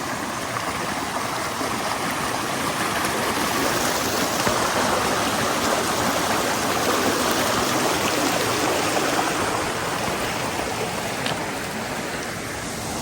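A small drainage stream flowing over rocks along a hiking trail at Virgin Falls State Natural Area, Tennessee, gives a steady, close, broadband rush of water that continues unbroken throughout, with no voices.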